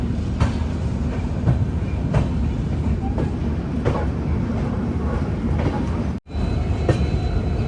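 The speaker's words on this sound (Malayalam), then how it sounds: "ഫിറോസ്പൂരിൽ നിന്ന് അഗർത്തലയിലേക്ക് പോകുന്ന ത്രിപുര സുന്ദരി എക്സ്പ്രസ് ആണ്" The Tripura Sundari Express from Firozpur to Agartala rumbles steadily past at a railway station, with a dense continuous roar and faint rhythmic wheel clacks, cutting out briefly near the end.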